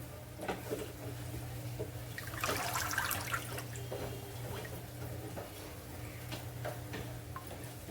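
Faint splashing and swishing of coriander leaves being rinsed in a basin of water, with a brief burst of louder sloshing partway through.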